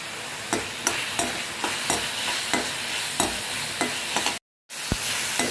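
Tomatoes sautéing with salt in a pan for thunguvalai chutney, steady sizzling punctuated by regular spoon scrapes roughly every half second, close up, with a brief dropout near the end and no talking.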